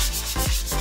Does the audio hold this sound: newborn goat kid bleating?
no